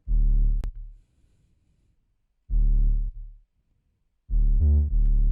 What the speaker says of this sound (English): In the build up, it's a very boring 808 because it hits every now and then.